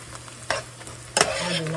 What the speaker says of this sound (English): I'm going to continue to saute these onions.